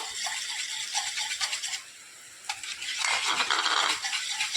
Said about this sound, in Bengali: আমি যে কুসুমটা তুলে রেখেছিলাম সেটা এবার দিয়ে দেব একটু ফাটিয়ে নেব